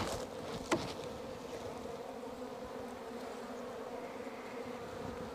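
Honeybees buzzing around hive frames during hive work, heard as a steady, soft droning hum of many bees close by, with one brief tap early on and no talking.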